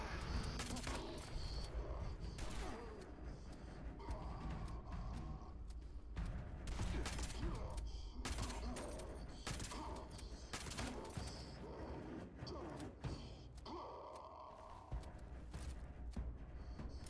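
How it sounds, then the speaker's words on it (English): Continuous in-game combat in Fallout 76 with missile launchers firing, dense overlapping blasts, shots and mechanical clatter under occasional speech throughout. "Oh, great, more missile launchers."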